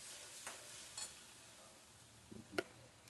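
Gram flour roasting with onion and tomato masala in a pan, a quiet, soft sizzle broken by a few spoon stirs and scrapes, with one sharper clink near the end.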